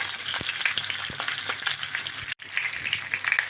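Pork belly sizzles steadily in a pan as it browns on all sides, with a dense, crackling hiss and scattered sharp pops; the sound cuts out for an instant partway through.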